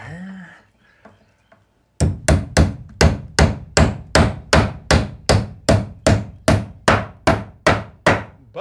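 A heavy framing hammer drives nails into wood in a steady, loud series of sharp thwacks, roughly two per second, after a few quieter taps and a brief voice at the start.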